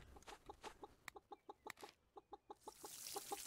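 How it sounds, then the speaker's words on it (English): A chicken in the farming video game Pumpkin Days clucks in a steady run of short, evenly spaced bursts, close and moderately loud, with a brighter hiss swelling toward the end. "what is that chicken going on about now?"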